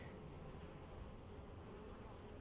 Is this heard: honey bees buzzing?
yes